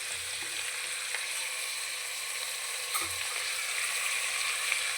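Onions frying in a pan for a Kerala thattukada-style beef curry, a steady soft sizzle throughout with a couple of faint stirring clicks, close and even.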